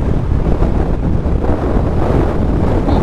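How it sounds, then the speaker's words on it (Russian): Strong crosswind roars and buffets steadily against the microphone while riding a Bajaj Dominar motorcycle off-road, a dense, continuous rushing noise with no voices. "сдувает боковой ветер"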